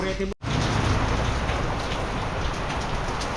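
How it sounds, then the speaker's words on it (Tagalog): Steady rain pours on a construction site at the San Gabriel project, a dense continuous hiss that runs the full length after a brief dropout at the start, with no voices over it. "eksaktong wala nang ginagawa biglang umulan"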